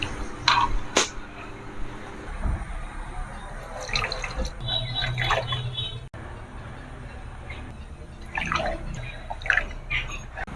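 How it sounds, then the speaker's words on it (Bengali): Whey water drains off freshly curdled chhena being made for Sitabhog sweets, a steady trickle and patter of liquid with occasional drips and light clinks from the vessel, close and moderately loud. "তো বন্ধুরা দেখুন ছানার জলটাকে আমি কিভাবে বার করে নিলাম।"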